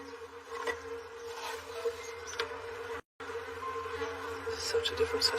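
Honeybees swarm around a frame hive in a garden, making a steady, droning buzz with a constant hum and scattered closer fly-by whines, briefly cut out once.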